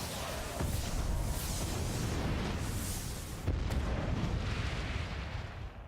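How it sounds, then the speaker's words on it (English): A tent blowing up in the Harry Potter and the Deathly Hallows Part 1 video game on Xbox 360, a dense roaring blast with fiery crackling rumble, loud and continuous with a second surge midway. "How does a tent explode?"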